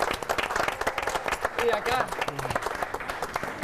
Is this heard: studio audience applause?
yes